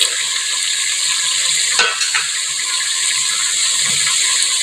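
Chopped tomatoes stirred in a hot pan while they sizzle and fry for a palak chicken dish, giving a steady loud hiss with a couple of brief scrapes of the spoon, close up.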